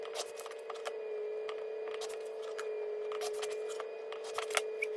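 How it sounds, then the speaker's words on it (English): Fabric quilt blocks with foundation paper piecing are trimmed along a line: quiet, quick cutting snips come in irregular clusters over a faint steady hum in a calm room. "I'm gonna flip it over and trim this block right on the dotted line"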